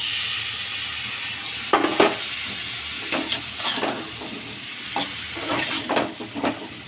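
Spices, salt, turmeric and vegetables sautéed with mustard paste for aam sol, with a steady frying sizzle and several scraping spoon strokes against the pan, close and clear, with no talking.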